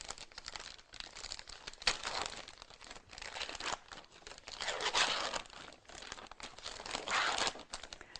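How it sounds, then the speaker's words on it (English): Sterile IV infusion tubing packaging being torn open and peeled back, a steady run of crinkling, crackling plastic with several louder bursts, close and alone without speech. "So just open your packaging at that end and peel back."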